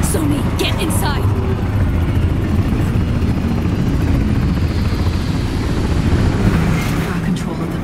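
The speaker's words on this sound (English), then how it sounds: "Combat choppers buzz in the free city of NC." Combat helicopter in Cyberpunk 2077, a loud continuous rotor thrum and engine roar filling the scene, with brief sharp impacts early and a louder swell near the end; some muffled voices sit under it.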